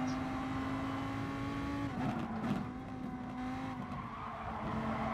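Lamborghini Huracan Gr.3 race car in GT Sport at Fuji, engine droning steadily at high revs with a brief tire squeal and skid in the middle, the engine note holding loud and close throughout.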